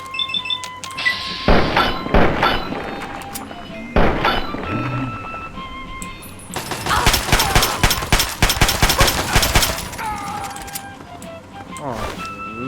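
Rapid gunfire from a companion in Fallout 3 bursts in dense volleys between thuds and game sounds, loud and close, with someone talking over parts of it.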